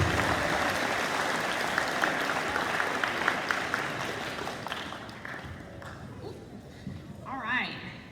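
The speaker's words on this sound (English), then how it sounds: "Please give these students a round of applause." Audience applause for students at a high school awards ceremony, a dense, steady wash of clapping that gradually fades, with some voices and a faint tone near the end.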